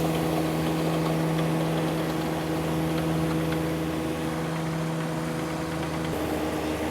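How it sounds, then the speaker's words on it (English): Several tractor tillers churn soil with a steady, close engine drone and low hum that holds constant throughout, with no talking. "it looks like Dave's tiller's doing the best"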